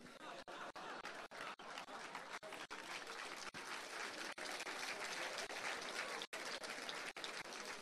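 Audience applause at a talk on ecologists in government, dense steady clapping filling the room for the whole stretch with a few brief gaps and light chatter beneath.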